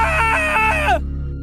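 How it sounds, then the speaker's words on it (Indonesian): A possessed figure lets out a loud, wavering scream with a pitch that rises and falls, then breaks off abruptly about a second in, leaving a low hum. "sosok dalam diri Alwi berteriak begitu keras dan berlari menuju ke arah hutan."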